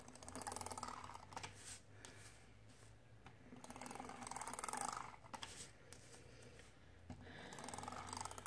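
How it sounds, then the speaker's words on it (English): A glue runner tape dispenser is drawn along the edges of a junk journal cover piece. It gives quiet, steady ratcheting clicks in several runs, with short pauses between strokes and no talking. "Take my glue runner and do the edges and then add in the glue."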